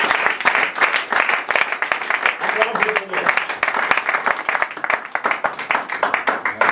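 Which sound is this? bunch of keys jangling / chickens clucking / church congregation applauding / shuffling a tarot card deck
church congregation applauding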